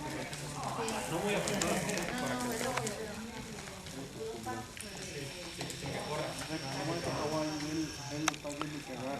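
A Tennessee Walking Horse steps slowly at a riding clinic in Mexico, its soft hoofbeats clip-clopping in an unhurried rhythm beneath someone talking over them.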